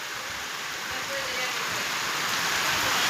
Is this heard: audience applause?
no